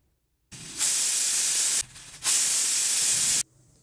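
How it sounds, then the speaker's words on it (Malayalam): A pressure cooker cooking ghee rice over a medium flame vents steam in two loud, sustained hissing bursts separated by a short lull, cutting off abruptly into near silence. "ഇനി കുക്കർ അടച്ച് മീഡിയം ഫ്ലെയിമിൽ 2 വിസിൽ വരുന്നത് വരേക്ക് വേവിച്ചെടുക്കുക."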